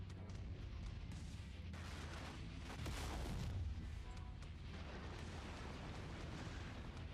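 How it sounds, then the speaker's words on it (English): Incoming fire strikes a mech in the video game Mechwarrior 5, a continuous heavy rumble of explosive impacts and booms that swells briefly in the middle and stays loud throughout. "someone's shooting at me again?"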